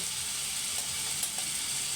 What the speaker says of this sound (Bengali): আমার আলুগুলো হালকা হালকা ভাজা হয়ে গেছে